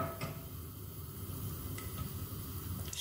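Garlic sizzling and browning in oil in a frying pan for a baccalà and friarielli pasta, a steady close hiss with faint crackles and no talk.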